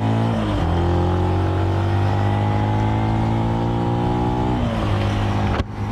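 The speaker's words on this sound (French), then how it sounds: "je commence à bien utiliser la moto, c'est-à-dire à la laisser monter en puissance" A Benelli BN 125 motorcycle accelerates steadily, its engine note climbing through a gear change around the middle before revving higher, loud and close throughout with a brief drop at the end.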